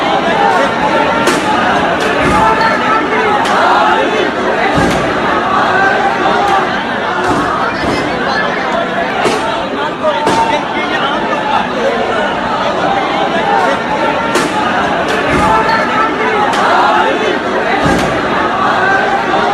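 A crowd of rioters gathering, with dense overlapping chatter and babble from many voices holding steady throughout at a loud, continuous level.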